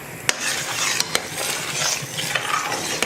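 A utensil stirring fish in a pot of broccoli and butter bean stew, with soft scraping and a light sizzle underneath, punctuated by a few sharp metallic clinks against the pot.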